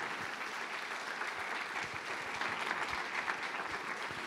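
A church congregation at a Portuguese-language worship service applauds together. The dense, sustained clapping comes from a sizable room and swells slightly toward the end.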